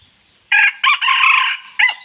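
A bantam rooster crows nearby, loud and clear, in a couple of bursts with a drawn-out middle note and a short final call, with no talk over it.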